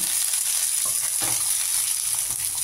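Potatoes and other vegetables dropped into hot oil sizzle steadily, a bright, constant frying hiss with faint stirring clicks and no voices.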